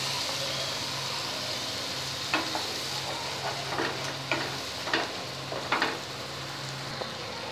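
Tomato paste goes into a sizzling pan for bhetki fish curry, a constant frying hiss punctuated by several soft stirring scrapes, moderately close with no voices.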